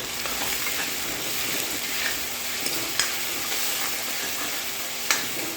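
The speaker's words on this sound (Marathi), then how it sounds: "हे बघा अद्रक लसणाची पेस्ट घातली याच्यामध्ये" Ginger-garlic paste sizzling in a frying pan for a spicy potato bhaji, a steady close hiss of frying broken by faint scrapes and clicks of stirring, with no voices.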